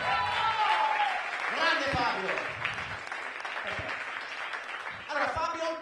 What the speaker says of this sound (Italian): Fategli un applauso a Fabio.